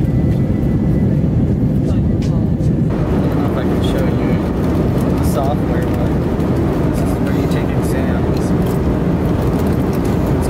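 A steady, loud roar fills the cabin of an airliner on a six-hour flight, with a continuous engine drone throughout and muffled voices in the background.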